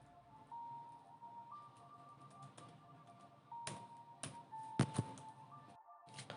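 Someone types on a computer keyboard in a quiet room, with scattered keystrokes that gather into a short cluster of sharper, louder taps, over a faint steady tone.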